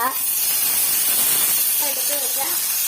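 Dried red chillies dropped into hot oil for a Kerala-style curry, a steady bright sizzling hiss that continues throughout, close and fairly loud.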